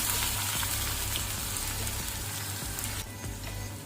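Chopped onion and green chillies fry in hot oil with urad dal for rice sevai upma, giving a dense, steady sizzle and crackle up close with faint stirring scrapes.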